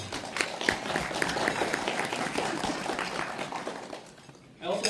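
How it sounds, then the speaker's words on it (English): Students and families at a university admitted-student day applaud, with crowded clapping mixed with voices that tapers off before a short burst of sound at the close. "So let's give ourselves a round of applause."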